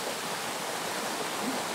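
A river in a remote Italian valley, where the crossing has slippery rocks, gives a steady broadband rushing of flowing water that stays even and moderately loud throughout, with no voices.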